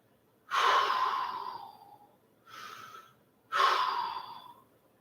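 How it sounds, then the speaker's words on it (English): Heavy breathing during a passive stretch, three loud, breathy exhalations, the middle one softer, each fading out over about a second, close up and with no talk. "Breathing here."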